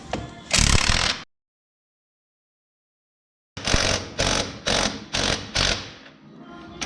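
A wrench ratchets on a Polaris Ranger 570 midsize lift kit during install: one rasping burst, a silent pause, then five quick, evenly spaced ratcheting strokes heard up close.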